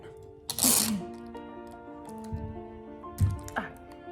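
Clear tape is pulled off the roll and pressed across the top seam of popsicle stick panels for a luminary, giving two short sticky rips about three seconds apart with light handling noise between them.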